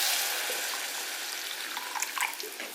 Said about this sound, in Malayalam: അതിനാവശ്യത്തിന് നമുക്ക് വെള്ളം ഒഴിച്ചിട്ട്